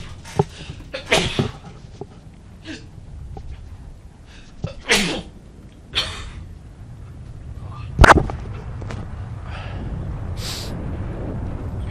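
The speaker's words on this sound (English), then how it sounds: "I'm totally gonna sneeze, hang on." One person sneezes several times in a row, each a sharp, loud burst set apart by short quiet gaps and breathy sniffs, with the strongest sneeze arriving near the end.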